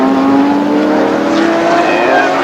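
Race cars at the 2005 Monterey races, including a Porsche 935, with a loud engine note sustained close by, one strong steady tone sliding slowly upward as a car holds speed, with no talking over it.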